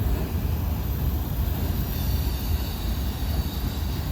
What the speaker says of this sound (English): Wasn't a real long train, but at least it was a train.